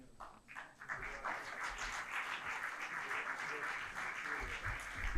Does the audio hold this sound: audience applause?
yes